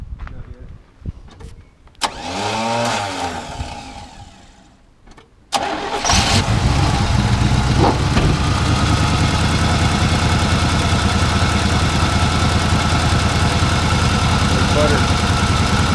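An '81 Chevy Scottsdale K10 pickup engine cranks with a whirring starter for a few seconds, then catches and settles into a loud, steady, rumbling idle that continues up close to the end.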